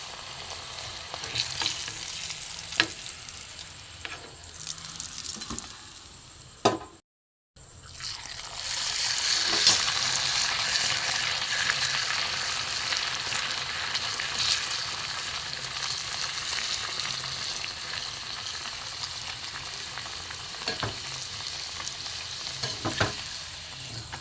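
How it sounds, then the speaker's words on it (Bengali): Lentil-stuffed dal puri, filled with matar dal, fries in hot oil until crisp, giving a steady soft sizzle with occasional stirring clicks and a brief pause before the frying swells up again and continues. "একটু লাল লাল করে ভেজে নেব"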